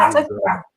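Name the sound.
pet dog barking in the house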